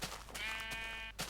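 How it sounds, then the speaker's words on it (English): Single sheep in the Minecraft Technic modpack game letting out one clear wavering bleat, short and fairly quiet, alone without talk. "Okay, it's very good to know that there are sheep on this map."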